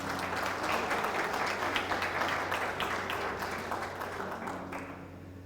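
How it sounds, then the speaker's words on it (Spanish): A church congregation gives a sustained round of applause, thick and even clapping over a low held keyboard chord, thinning out and fading in the final second. "Dele un aplauso a la palabra del Señor."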